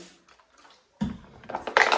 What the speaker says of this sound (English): use the bougie sprayer, get some water on that dome.